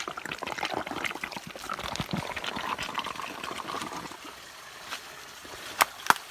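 Water flowing at a spring source, a steady close trickling and gurgling stream that softens toward the end, followed by a couple of sharp knocks.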